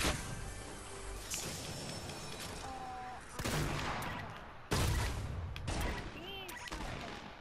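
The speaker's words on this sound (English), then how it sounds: "Minigun." Rapid gunfire bursts in a Fortnite Team Rumble match from a minigun, in several loud volleys separated by short gaps, mixed with game effects and a voice talking over them.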